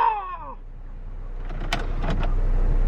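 A Saab 9-3's pop-out ninja cup holder deploys from the dash of a 2007 car with the engine off, giving a short motorized whir followed by a few quick mechanical clicks and snaps, up close, with a brief exclamation of delight just before.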